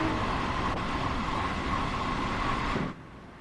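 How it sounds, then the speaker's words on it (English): A Long Island Rail Road train passes in Train Sim World 4, a steady rolling rumble of wheels on track that holds loud and even before cutting away abruptly near the end. "So that's a train going down there now."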